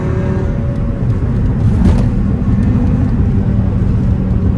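An Audi RS3 8V with quattro drive pulls hard in second gear, a loud, close, continuous engine roar rising steadily, heard from inside the car with road noise mixed in.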